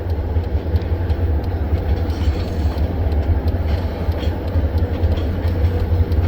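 Mile-long freight train with several locomotives starting up, a loud continuous low diesel rumble with rail cars creaking and clanking steadily throughout, close by.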